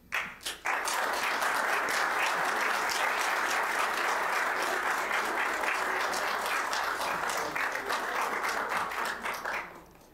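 A crowd breaks into sustained applause, dense steady clapping that rises quickly and holds for several seconds before tapering off.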